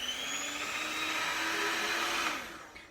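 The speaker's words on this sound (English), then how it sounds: "I'm going to plug in my electric mixer" An electric hand mixer whirs steadily and loudly as it beats Oreo cake batter, a continuous motor drone with a faint metallic hum that carries on unbroken before winding down at the end.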